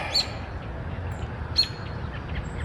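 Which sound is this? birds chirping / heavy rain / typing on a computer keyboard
birds chirping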